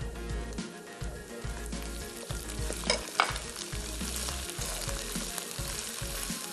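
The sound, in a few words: onions frying with ginger garlic paste and green chili paste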